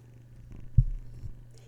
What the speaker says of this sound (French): Puis il ronronne fort.